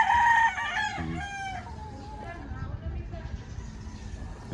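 A chicken crows and clucks close by at the start, followed by quieter background noise and the rumble of a passing car.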